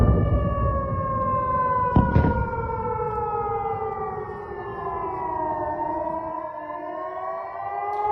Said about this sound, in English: Oh, those classic air sirens.